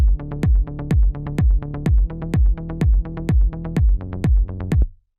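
A progressive house bass line sidechained to the kick drum, deep punchy kicks landing on a steady four-on-the-floor beat while the sustained bass swells and ducks between each hit, loud and clean until it cuts off.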